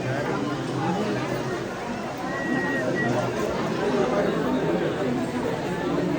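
A dense crowd of devotees at the Shri Swami Samarth temple in Akkalkot chatters continuously, many overlapping voices blending into a steady babble with no single speaker standing out.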